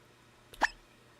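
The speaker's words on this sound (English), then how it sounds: "I got a hiccup." One short, sharp hiccup stands alone over a low steady hum during play of the game Atomfall.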